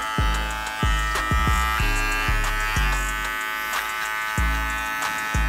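An electric hair clipper set to a 1.5 guard trims a beard in a barbershop, its steady buzz repeating in short close strokes as the blade touches the hair, with no talking.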